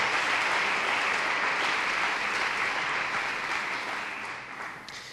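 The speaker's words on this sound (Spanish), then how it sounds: "Con una ofrenda de palmas decirle: Señor, intentamos comprender esta verdad." A church congregation claps together as an offering of praise to God, a dense, steady wash of applause that stays loud for several seconds and then tapers slightly toward the end.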